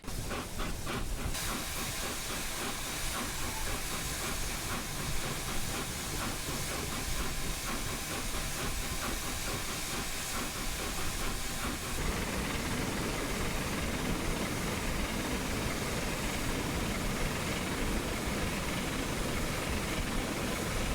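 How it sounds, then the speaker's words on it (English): Train Simulator Classic LNER A4 steam locomotive fitted with a double chimney, its soft rapid exhaust beats running under a loud, constant steam hiss that turns into a smoother continuous roar partway through. "And here is what a double chimney sounds like."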